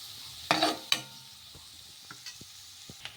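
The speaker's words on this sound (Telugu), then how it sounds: "ఇందులోకి చిన్నగా కట్ చేసి పెట్టుకున్న పచ్చిమిర్చి ముక్కలు వేసుకొని ఒకసారి బాగా కలిపేసుకుందాము" Chopped green chillies are stirred in a pan on medium flame: two sharp scraping clatters of a spoon against the metal, then faint sizzling with a few light taps, close and otherwise quiet.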